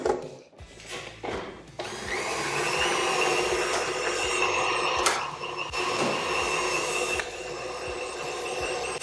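Electric stand mixer whirs steadily while beating butter in the bowl, preceded by a few short clunks, with occasional rattles and scraping over a fairly quiet motor hum.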